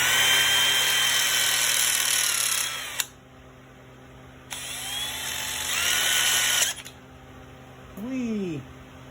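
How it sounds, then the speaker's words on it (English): A power drill with a stepper drill bit cleans out a hole in metal during a power steering and fuel repair, running in two loud bursts of whirring with a pause between them. "You just give it a little bit of the old stepper drill bit."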